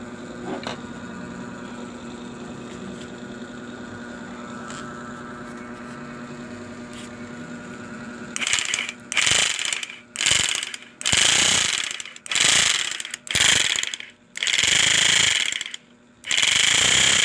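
A repaired junkshop sack sewing machine, fitted with a rubber drive part from a rice cooker, runs in a test: a faint hum first, then loud bursts of rapid mechanical clatter that start and stop repeatedly.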